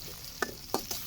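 Chopped onion sizzles in hot oil while being stirred in a pan, as noodles are cooked at home. A few quick, quiet scraping strokes sound over a faint background hiss.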